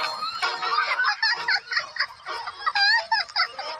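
A chicken clucks and squawks in quick, uneven bursts, close and fairly loud, with a few higher cackling notes.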